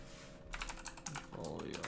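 Rapid typing on a computer keyboard gives a quick run of light clicks, close and soft, over a faint background hum.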